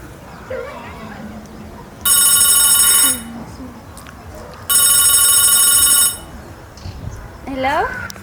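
A telephone rings indoors in two loud, steady electronic bursts of about a second each, separated by a short pause, with voices and household sounds around them.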